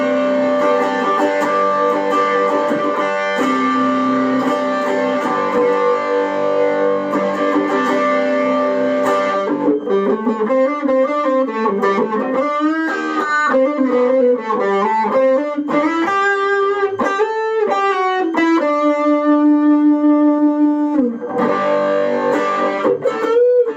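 An electric guitar played through a Caline Puresky overdrive pedal with a clear booster added sounds loud and saturated, opening with sustained driven chords and then moving into a bending, sliding lead line with held notes.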